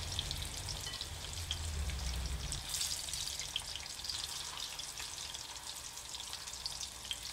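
Tempura prawns deep fry in hot oil, a dense, steady crackling hiss close by. A low rumble underneath drops away partway through while the bubbling continues unbroken.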